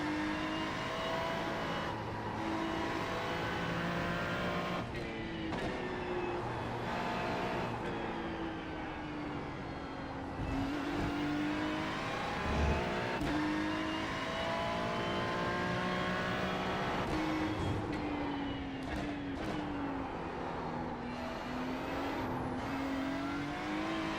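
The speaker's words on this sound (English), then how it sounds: "I can hear the engine" A Ferrari race car in a racing video game at Charlotte drones steadily throughout, its engine pitch rising and falling through shifts and corners, loud and close with no talking.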